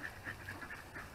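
Ducks quack while being fed, a quiet rhythmic series of about six short nasal calls in a brief burst.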